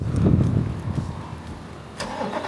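A Chevrolet Corvette C8 E-Ray, a hybrid, starts up close by with a loud low rumble that settles into a quieter idle, followed by a sharp click near the end.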